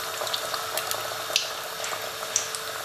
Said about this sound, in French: On va plonger les pastels maintenant dans l'huile bouillante.